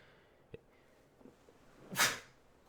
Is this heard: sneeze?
yes